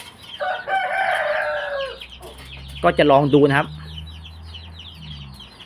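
Backyard chickens, one of them with eye trouble, give a drawn-out call followed by clucking close by, while someone speaks briefly in between.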